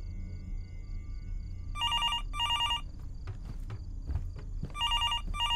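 A telephone rings inside a horror video game, its trilling bursts arriving in separate clusters with gaps between, over quiet low rumble and a few soft footstep-like knocks.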